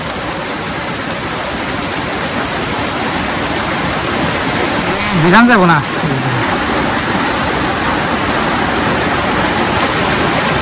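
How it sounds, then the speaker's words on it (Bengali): Heavy rain pours outside in a loud, continuous hiss that never lets up, and a voice speaks briefly partway through. "দেখুন বাইরে প্রচুর পরিমাণে বৃষ্টি"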